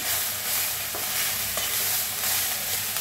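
Moth beans (matki) being stirred and dry-roasted in a pan while sprouts are prepared, making a dense continuous rustling scrape and sizzle, close and unbroken, with no voices.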